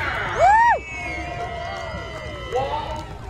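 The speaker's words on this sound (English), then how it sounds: "Nice round of applause for Walt Obrinsky Jr." A crowd at the Winchester 400 cheers and whoops for the 2022 Midwest Modified Tour champion, with a loud shout early and a second burst near the end, over steady crowd murmur and voices.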